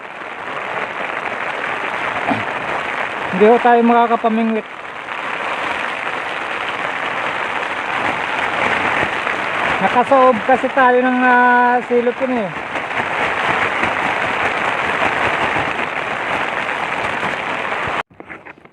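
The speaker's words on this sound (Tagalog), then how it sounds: "Standby muna tayo pag hanggang matapos itong ulan mga idol." Heavy rain pours at a Pacific Ocean beach during a fishing trip, a steady dense hiss running through the whole clip while someone talks over it at close range.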